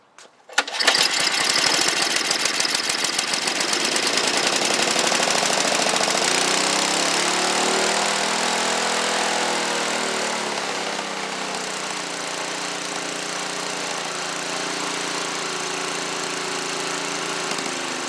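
A Tecumseh snowblower engine, freshly carburetor-cleaned and primed on choke, catches after a short pull and roars into a loud, close, rapid rattling idle that wavers in speed midway before settling steady, with no voices.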